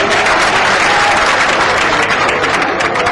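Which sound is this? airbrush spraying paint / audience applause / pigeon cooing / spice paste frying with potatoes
audience applause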